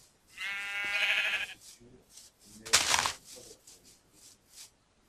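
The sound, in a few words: sheep bleating in Minecraft video game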